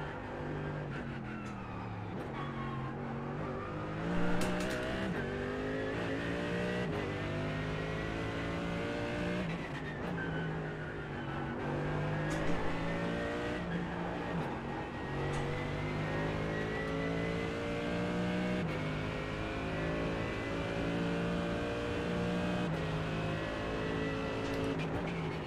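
A race car engine in the iRacing sim game drones close and steady, its pitch climbing and dropping through the gears, with the occasional brief tire squeal as the rear end slides.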